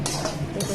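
Khichdi ingredients being stirred in a pot, a brief close scraping swirl of a spoon against the pot with a soft swish, heard alone for under a second.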